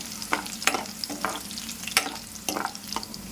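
Garlic and green chillies fry in oil for a spinach and moong dal dish, giving a close, steady sizzle with several distinct scraping stirs of a spoon, with no voices.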